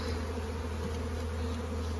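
Honey bees buzz in a steady, faint drone as they fly around an open hive, a continuous low hum with no voices over it.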